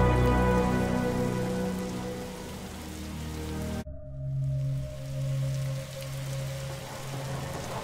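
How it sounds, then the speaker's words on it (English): Rain falls steadily in the video game The Signifier, a dense close patter that cuts off abruptly partway through and gives way to a softer, quieter hiss with a low hum beneath. "Is that rain?"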